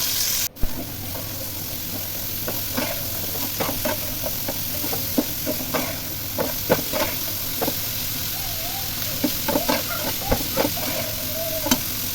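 Spice paste for fish, with onion paste and chili, fries in a pan with a steady loud sizzle, punctuated by scattered scraping and stirring clicks close by.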